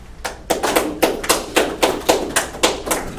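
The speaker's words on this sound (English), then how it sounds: "ladies and gentlemen, can we please clap?" Hand claps sound in a steady, evenly spaced rhythm, one sharp clap after another at a moderate pace, fairly close and with no talking over them.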